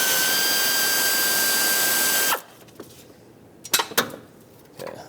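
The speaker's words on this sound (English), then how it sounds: "I'm going to speed things up with my air ratchet." An air ratchet removing bolts on a 2006-2011 Honda Civic during thermostat replacement whines loudly and steadily for about two seconds, then stops, followed by quieter clinks and a few sharp metallic clatters of parts handled nearby.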